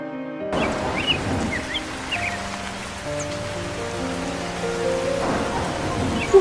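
Heavy rain falling steadily in a village setting, a broad continuous hiss of downpour with faint bird calls, no talking.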